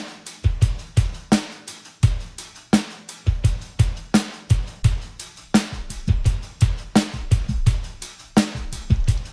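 A steady drum beat of kicks and snares repeats with a rhythmic pulse, the snare hits trailed by soft, thin, filtered echoing repeats.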